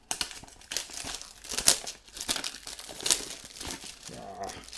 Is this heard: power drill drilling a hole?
no